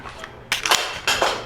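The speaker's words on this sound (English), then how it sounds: "I press that magazine release, pull that mag out" Two sharp metallic clacks a half-second apart as a pistol magazine is released and pulled out during dry fire practice, close and loud in a quiet room.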